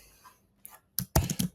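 A quick run of crisp keystrokes on a computer keyboard after a short quiet stretch, close and clicky, with no talking.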